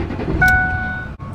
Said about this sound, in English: So I'm gonna turn the truck on and you guys need to listen.